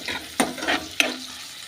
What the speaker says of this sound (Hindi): अब हमें इन्हें अच्छे से भूनना है।